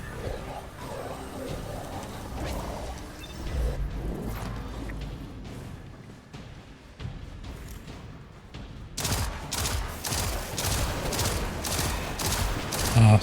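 Gunfire in the video game Destiny 2, with scattered shots and crashes early on, then a loud run of sharp repeated shots in the final seconds, with little talk.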